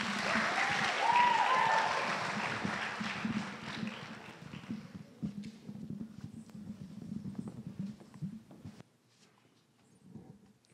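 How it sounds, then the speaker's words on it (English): An audience at an Arangetram dance debut gives the MC a warm round of applause that peaks early, then fades into scattered claps and shuffling footsteps before trailing off. "Please join us in giving a warm round of applause for Rai Mukherjee"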